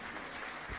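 Concert audience in Antalya applauding the municipal band and city orchestra, a dense, steady patter of clapping that stays fairly soft throughout a brief burst.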